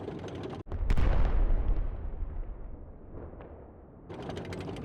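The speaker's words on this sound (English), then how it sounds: "We hear the guns clearly now." Heavy gunfire and artillery from a war audio drama set around the battle for Groningen, with a sharp close blast followed by a long rolling rumble that slowly fades, then a renewed crackle of distant shots.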